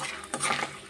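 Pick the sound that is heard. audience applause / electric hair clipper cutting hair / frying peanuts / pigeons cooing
frying peanuts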